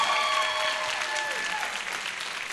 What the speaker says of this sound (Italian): Vai, un applauso alle Filippine che comunque hanno già vinto.